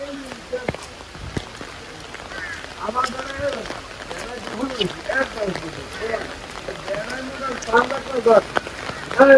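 Rain falling in a village as a steady background patter beneath people talking throughout.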